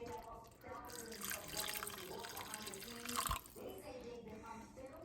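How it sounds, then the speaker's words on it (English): Hot pasta cooking water is poured into a pan of spicy red tomato sauce, a steady close splashing and trickling stream under a soft voice. "So I'm going to add a little bit of this hot water to my sauce."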